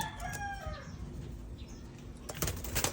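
A rooster crows near the start, then a rapid burst of wingbeats from pigeons flying free outdoors, with bright broadband flutters toward the end, moderately close.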